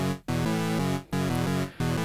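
Ableton Live's analog synth plays square waves with the second oscillator tuned seven semitones up, a perfect fifth, giving bright, buzzy, stacked tones in three loud, sustained notes separated by short gaps.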